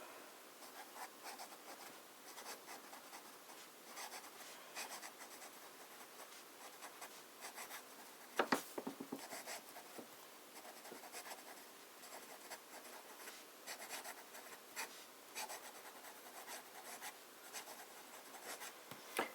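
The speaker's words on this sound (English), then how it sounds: "Let us do a little bit of fine writing." A fountain pen filled with Montblanc Royal Blue ink scratches across paper in fine writing, a soft, close, papery rasp of short strokes and pauses, with a few sharper taps midway.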